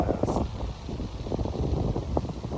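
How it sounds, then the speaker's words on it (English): Wind gusting across Lake Forest golf course, a steady low buffeting rumble over the microphone with slight rises and falls, no speech. "Well, the wind is here. It's pretty impressive."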